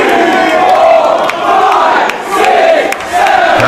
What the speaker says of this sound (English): Crowd counting along, but there's no referee to make the official count.